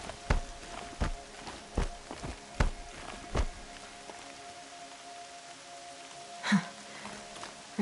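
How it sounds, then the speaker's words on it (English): Steady rain patters under a series of sharp, regularly spaced footstep-like thumps, with a faint tonal hum running beneath and a brief louder splash near the end. "Rain's not so bad."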